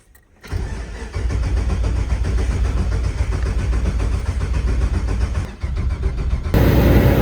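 A 1949 Chevy engine cranks and fires up in the cold, then settles into a loud, steady idle for several seconds and rises briefly toward the end.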